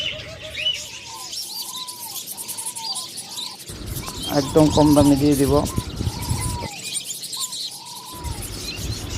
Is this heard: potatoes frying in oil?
no